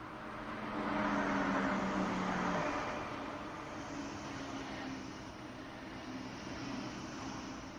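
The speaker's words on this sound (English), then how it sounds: "Yeah, train's arrived." Train arriving at a station in the Train Sim World 3 video game, a low rumbling run-in that swells in the first few seconds with a brief tonal hum, then settles into a steady quieter drone.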